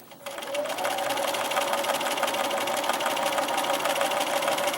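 A sewing machine stitches a hot pad, starting up and then running in a steady, fast, close mechanical whir.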